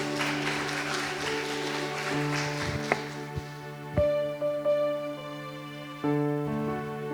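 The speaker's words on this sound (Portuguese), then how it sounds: "Vamos aplaudir" An audience applauds actors after a performance, the clapping strongest at the start and fading into sustained music with a few sharp knocks.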